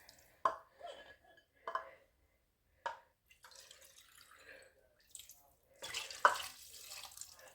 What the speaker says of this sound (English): I'm just going to add a little dash of water to add to it.